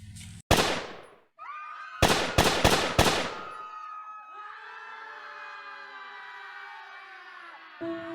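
A loud single gunshot bang followed by a rapid burst of several sharp shots, then a sustained ringing, siren-like tone that lingers to the end.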